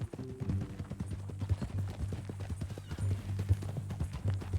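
Horse hooves clip-clopping in Red Dead Redemption 2, a steady rhythmic trot of close, even hoofbeats over a low droning hum, with no talk.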